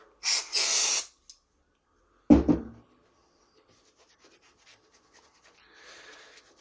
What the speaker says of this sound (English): Just going to spray it down with some contact cleaner